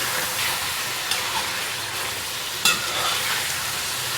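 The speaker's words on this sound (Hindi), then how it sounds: "और अब मैं इसके साथ इसको फ्राई करूँगी।" Meat frying with ginger-garlic paste in a karahi, a loud continuous sizzle with stirring scrapes and a sharp clatter near the end, close up and without speech.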